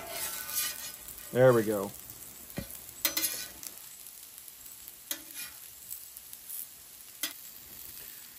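Marinated steak sizzles faintly on a hot griddle while metal utensils scrape and clink against the surface, and a person speaks briefly in between.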